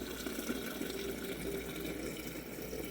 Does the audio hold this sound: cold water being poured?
yes